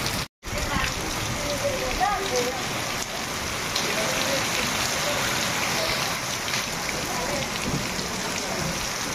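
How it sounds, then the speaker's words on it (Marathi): Heavy unseasonal May rain falling in a Konkan orchard, with dense steady patter on surfaces lasting throughout after a brief cut at the start, and low rumbling beneath. "बघा जबरदस्त विजांच्या कडकडाटासह पाऊस आहे"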